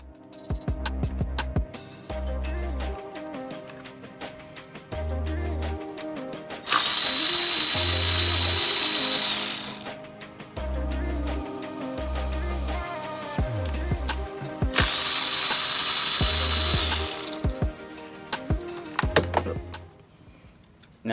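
A hand ratchet clicks in quick bursts while loosening the three 10 mm bolts that hold the transmission filter on a Scion tC, with two louder sustained stretches of grinding ratcheting and short pauses between turns.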